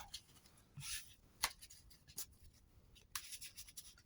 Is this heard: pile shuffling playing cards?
yes